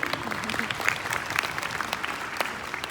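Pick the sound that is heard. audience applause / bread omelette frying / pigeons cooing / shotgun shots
audience applause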